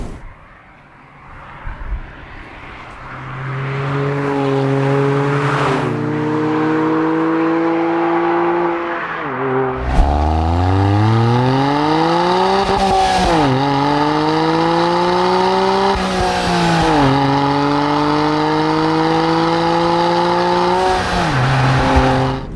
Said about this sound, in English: an S660 with a Liberty Walk body kit and an HKS tuning kit